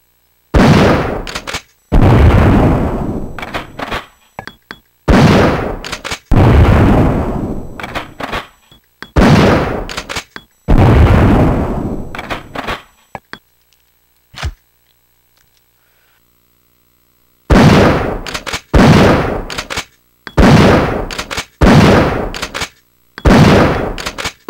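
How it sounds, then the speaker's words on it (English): Benelli M3S sawed-off 12-gauge shotgun firing in Resident Evil 3: Nemesis, a series of loud booming blasts with pump-action clacks between them, a long quiet gap midway, then more rapid shots. "Now for the next weapon, the shotgun. Benelli M3S, an easy-to-carry sawed-off shotgun."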